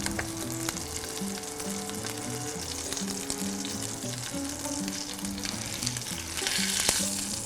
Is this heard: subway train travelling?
no